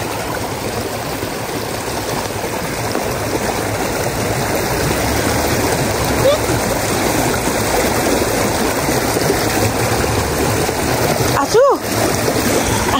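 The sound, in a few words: children splashing and playing in a river stream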